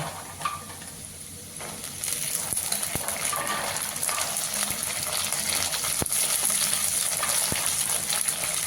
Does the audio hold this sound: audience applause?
no